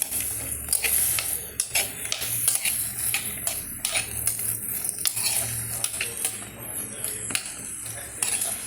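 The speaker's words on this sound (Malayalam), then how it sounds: "നമുക്കിത് വരട്ടി കൊടുക്കണം" A spoon scrapes and clinks repeatedly against a pan as curry is stirred and roasted, with a soft sizzle underneath and a voice speaking at times.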